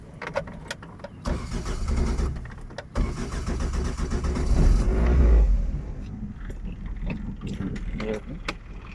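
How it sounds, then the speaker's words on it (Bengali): A car engine starts and revs during a driving lesson at a driving school in Uttara, the motor rising and surging loudly up close amid cabin noise, with people talking inside the car. "এক্সেলটা ধরে স্টার্ট করেন।"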